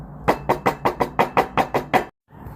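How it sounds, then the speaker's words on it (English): Knocking on a closed door: nine evenly spaced, firm raps in a steady rhythm, close and loud, then a brief silence with no voices. "You need to go knock on that door."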